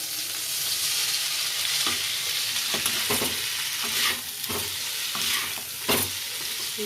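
Chow mein stirred in a hot wok (kadhai) with black and white vinegar, a steady sizzle under repeated scraping strokes of a spatula against the pan, close and continuous with no talking.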